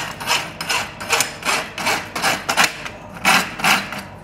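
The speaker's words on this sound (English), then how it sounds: "making sure you use 14 inches of the rasp" A farrier's rasp drawn across a horse's hoof in long, rhythmic strokes, each a coarse close scraping rasp repeating roughly twice a second.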